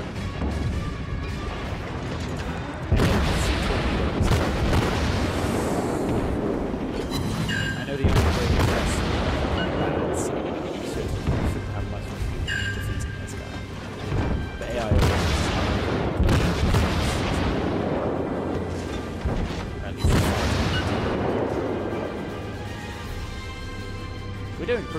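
Naval artillery volleys boom repeatedly in a World of Warships tier II co-op battle, heavy blasts landing every few seconds with rumbling decay, loud and close throughout.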